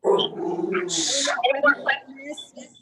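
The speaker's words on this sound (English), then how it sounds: "Somebody's barking." A dog barks and whimpers in the background of an online sales meeting call, a short burst of yips and growly sounds mixed under people talking.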